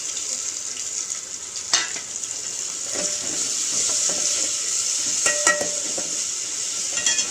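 Onion and tomato frying in a pan for a country chicken curry, a steady close sizzle with a few scraping stir clicks and no talk.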